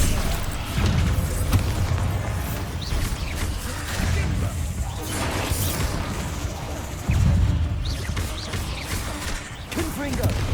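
Bombarda spell blasts in the wizarding game Hogwarts Legacy, booming explosive hits mixed with other spell effects in a busy battle, with recurring heavy thuds and a speaking voice throughout.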